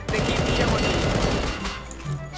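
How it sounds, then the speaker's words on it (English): Dense, continuous gunfire in Garry's Mod DarkRP, a loud crackling fusillade of rapid shots that thins out toward the end. "Yeah, stop shooting me, man."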